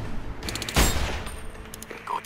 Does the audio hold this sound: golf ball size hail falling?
no